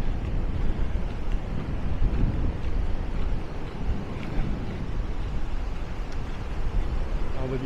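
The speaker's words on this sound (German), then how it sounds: "Ja, der Wind hat also spürbar zugenommen." Strong wind buffets the microphone on the coast at Maspalomas, Gran Canaria, a steady loud roar and rumble with gusty swells and surf-like wash throughout, with no talking.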